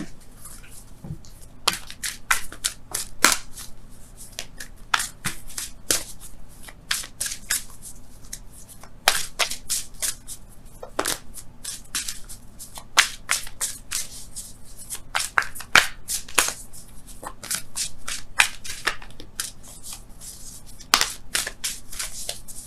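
Wisdom of the Oracle cards are shuffled by hand in repeated quick riffling bursts, close and crisp against a quiet background, with no speech.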